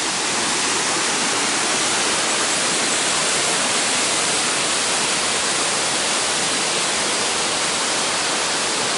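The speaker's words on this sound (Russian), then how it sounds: "Вот мы на водопаде Дуриан." Durian waterfall on Langkawi island roars in a constant, dense rush of falling water, loud and close, with no breaks or voices.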